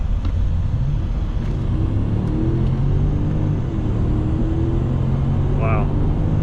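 A Mercedes S550 4matic with a 5.5-liter engine accelerates, its low engine rumble swelling steadily from inside the car as revs climb, with a brief squeak near the end.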